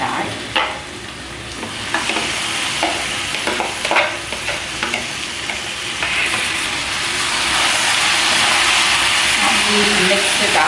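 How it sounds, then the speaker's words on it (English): Marinated mutton goes into a hot pot for biryani, sending up a loud, steady sizzle with scraping stir strokes early on, the frying hiss swelling and holding as the meat cooks. "We can now add the meat, marinated meat."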